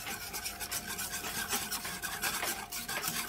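Turrón flan ingredients, including curd powder sachets, being mixed in a bowl, giving a steady scraping, rasping stir that runs continuously at moderate level without pauses.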